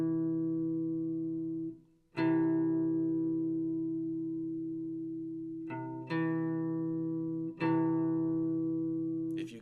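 An electric guitar sounds a third interval for ear training, with clean sustained notes ringing out together, then plucked again several times, each attack decaying slowly with no voice.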